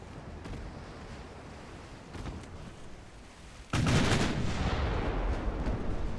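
A naval gunfire volley from warships in Ultimate Admiral Dreadnoughts, a low rumbling battle ambience broken by a sudden heavy booming blast that rolls on loudly to the end.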